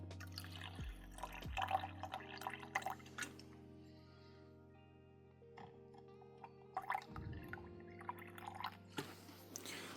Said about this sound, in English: so I will just pour in some water until it's at the correct level